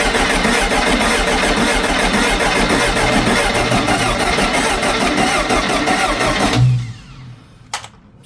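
Starter cranking a 1969 VW Beetle engine that had sat unused for six years, a loud steady churning drone that runs several seconds and then cuts off abruptly, followed by a brief clunk.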